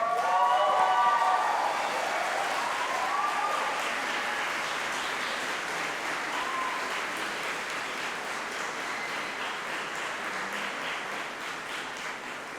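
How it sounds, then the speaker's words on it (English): Graduates at a university graduation ceremony stand and applaud, producing a broad, steady wash of clapping that swells loudest at the start and then holds at a sustained level with some cheering mixed in. "Can I ask our graduates, please stand up, applaud and wave to your supporters if you can spot them."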